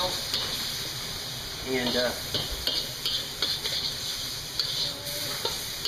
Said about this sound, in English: I'm stir frying the lobster with nothing but salt and garlic, a little bit of oil